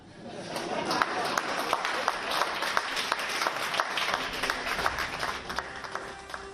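An audience at a literary festival in Shimla claps for a satirical speaker, a dense wash of applause with individual sharp claps standing out, fairly loud and continuous.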